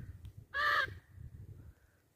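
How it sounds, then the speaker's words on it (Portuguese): A Lear's macaw, the blue macaw of the Brazilian sertão, perched in a licuri palm, gives one loud harsh squawking call nearby, with faint quieter cries and low background noise around it. "mostra as araras ali, ó. Em cima do licorizeiro, comendo licuri, ó. Tá vendo? As araras azul de lia."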